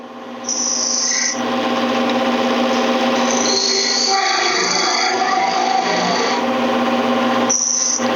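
Steady, continuous whirring of a wood lathe as a skew chisel cuts a spinning workpiece down to size, with a faint high scraping edge on and off over the hum.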